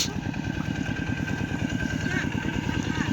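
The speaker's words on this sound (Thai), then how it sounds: "รถไถสนั่นพี่น้องรถไถ2 คัน" Two farm tractors working a rice paddy on a hire ploughing job, their engines chugging steadily and loudly in a continuous rhythmic drone close by, with a voice talking over the noise.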